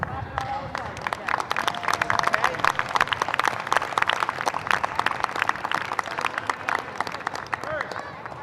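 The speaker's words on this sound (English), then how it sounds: "let's clap for our all-stars, okay?" A crowd claps for Little League all-stars at an all-star game and home run derby, a dense, busy stretch of many hands applauding while voices carry through it.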